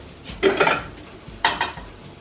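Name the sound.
stirring peas with mint jelly and butter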